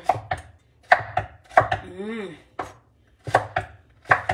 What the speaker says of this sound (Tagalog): hiwain natin